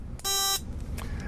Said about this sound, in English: I have a homebrew thing here with some batteries and a little buzzer